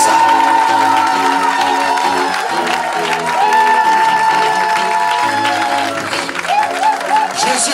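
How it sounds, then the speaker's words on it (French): A church congregation applauds and cheers loudly during a sermon, with steady clapping and whoops over music and a voice speaking in French. "acclame très fort plus que ça."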